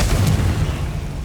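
A Confringo blasting spell explodes in Hogwarts Legacy, a loud, deep boom that rumbles heavily and fades slowly, heard alone without talk.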